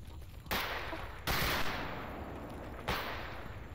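Gunfire in the video game STALKER: three sharp, loud shots spaced apart, each with a short decaying tail, no talk.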